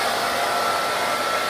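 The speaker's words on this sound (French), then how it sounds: "je vais prendre un sèche-cheveux" A hair dryer blows hair with a loud, steady whooshing roar that holds constant throughout, close up and with no talk.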